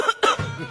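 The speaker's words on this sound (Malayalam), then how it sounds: "നീ ചുമക്കുന്ന കേൾപ്പിക്കാനാണോ എന്നെ ഈ സമയമില്ലാത്ത സമയം?" A sudden cough, two or three sharp bursts, heard close and loud during a phone call.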